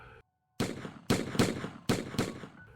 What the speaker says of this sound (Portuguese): disparamos diversos tiros consecutivos de espingarda nas costas do animal